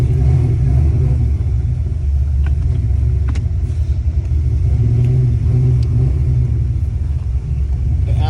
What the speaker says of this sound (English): we're going to go ahead and take the car down the road real quick